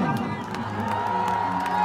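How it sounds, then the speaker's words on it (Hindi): Crowd at a Bhojpuri stage show in Bhagalpur cheers and claps loudly, shouts and whoops rising over a continuous roar with music humming underneath, dense and close throughout. "जोरदार ताली और हल्ला करो"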